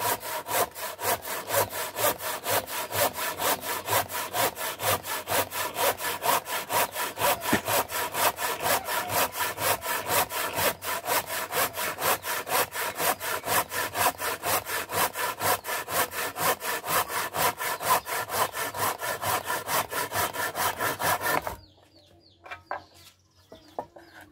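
A hand saw cuts through wood for a hoe handle in a long, fast, steady run of rasping back-and-forth strokes, close and loud, stopping near the end with a few faint knocks and chickens clucking in the background.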